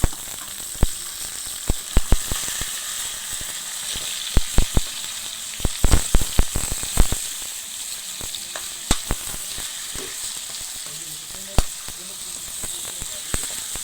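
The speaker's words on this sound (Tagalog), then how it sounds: "Kumukulo na yung ginagmay namin" A stew with meat bubbles and sizzles steadily in a pot, with scattered sharp pops and crackles over a constant hiss, close by.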